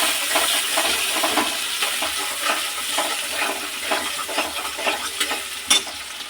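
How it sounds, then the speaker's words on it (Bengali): Chopped onions fry with whole spices and bay leaf until reddish, giving a loud, constant crackling sizzle with rhythmic stirring strokes and a sharp clink toward the end. "পেঁয়াজটাকে একটু লাল লাল করে ভেজে নেবো"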